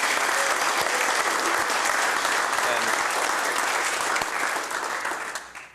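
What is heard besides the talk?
audience applause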